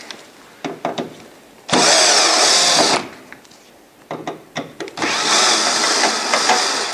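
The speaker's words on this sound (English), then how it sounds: "Remove the 2 Phillips screws which are located on each side of the stem." A power screwdriver backs out Phillips screws from the stem of a Santa Fe Rx humidity controller, running in two loud, sustained whirring bursts, each preceded by scattered clicks and handling taps.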